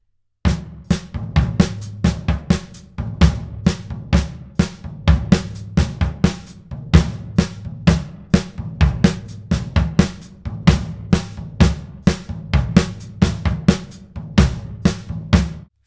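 A slow samba groove on floor tom, snare drum and hi-hat, played as a steady stream of sharp, evenly spaced hits with a low tom pulse underneath, close and alone for about fifteen seconds.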